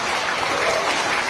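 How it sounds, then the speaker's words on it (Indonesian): An audience at a parliamentary gathering in Indonesia claps in a brief, dense burst of applause, steady and moderately loud throughout with no voices over it. "Kalian jangan tepuk tangan seperti itu."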